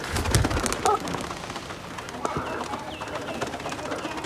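Pigeons in a Rawalpindi village loft, a soft cooing and wing flutter near the start amid constant rain-like patter, with people talking nearby.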